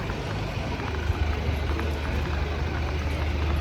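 A low engine rumble from a London route 85 bus hums steadily in the distance under broad outdoor background noise.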